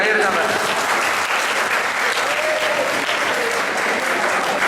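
Audience at a children's organisation's annual conference valedictory ceremony claps in a dense, steady burst that fills the hall, loud and continuous throughout without a pause.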